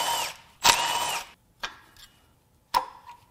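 A power tool works on the cam sensors of a 2016 BMW F80 M3's S55 twin-turbo engine, firing in short close bursts: a longer whir followed by two brief zips, with quiet gaps between.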